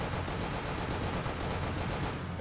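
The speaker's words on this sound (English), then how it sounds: "You can fire the Scorpion's machine gun by pressing and holding RT." The Scorpion tank's machine gun fires in Halo: Spartan Assault, a dense, unbroken burst of rapid gunfire that fills the whole stretch at close, loud level with no pauses.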